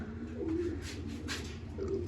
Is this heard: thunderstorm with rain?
no